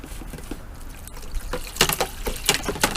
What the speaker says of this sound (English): I'm going to pour off a container